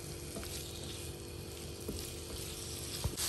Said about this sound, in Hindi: हम अब पनीर को इस बटर में थोड़ा सा फ्राई कर लेंगे